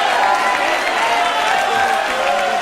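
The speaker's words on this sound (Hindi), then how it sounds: "ताली बजाओ।" A large crowd applauds continuously, dense clapping with some cheering mixed in, loud and sustained throughout.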